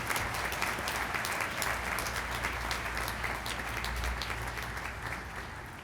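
At a university commencement ceremony, a large crowd applauds distinguished alumni in a dense, steady roar of clapping that slowly tapers off toward the end.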